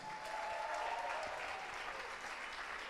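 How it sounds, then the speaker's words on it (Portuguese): Faint, steady applause from a crowd, a continuous wash of clapping at a distance, with no voices over it. "Então você pode dar um aplauso ao Senhor?"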